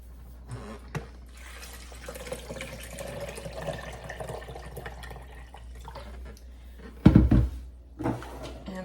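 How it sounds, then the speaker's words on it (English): Five cups of water added to soaked almonds for homemade almond milk, a soft pouring trickle over kitchen hum, followed by a loud knock or clatter near the end. "And then I just add 5 cups of water."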